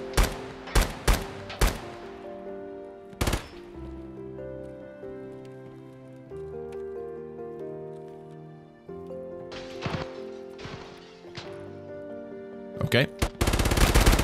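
Gunfire rings out in Escape from Tarkov on the Streets map: sharp, loud single shots and rapid bursts come in clusters with quieter gaps between them, and a voice speaks briefly.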